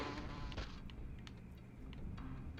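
Giant mosquito-like creatures in a PS1 game buzz steadily, a fairly close insect drone with wavering pitch and a few brief clicks, no speech.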